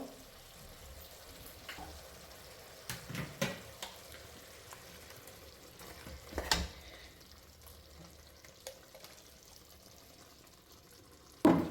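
Ground masala paste being stirred into a capsicum chicken gravy in a pan, a soft low sizzle with occasional louder scrapes and clinks of a spoon, fairly quiet overall.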